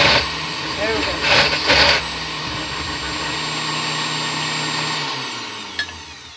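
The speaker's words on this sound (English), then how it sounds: "Okay, so I'm going to keep blending this up until it's nicely pureed." A blender purees a cinnamon hummus apple dip, its motor whirring loudly and steadily with brief surges early on, then a sustained drone that tapers off near the end.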